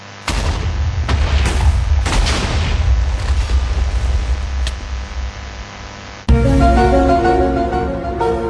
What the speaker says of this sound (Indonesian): Rumah aku baru meledak loh.